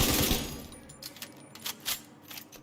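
Rifle gunfire in The Division 2 during a raid, opening with a dense burst of rapid shots, then a run of sharp, separated cracks and impacts, close and loud with no talking.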